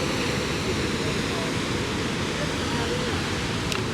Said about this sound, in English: So look at the waterfall, there it is right there.